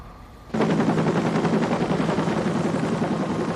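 A loud, dense helicopter rotor chatter starts abruptly after a half-second of quieter rumble and keeps pounding steadily, close and unbroken.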